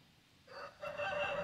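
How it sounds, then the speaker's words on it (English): A rooster on a homestead crows once, fairly far off and faint, rising out of quiet surroundings with no voices. "even though we got roosters crowing"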